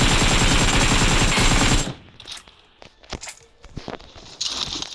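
Video game gunfire: a dense burst of rapid automatic shots for about two seconds, followed by scattered single shots and faint movement noises, loud and close.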